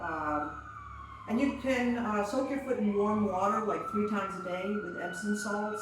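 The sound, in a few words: passing emergency vehicle sirens in city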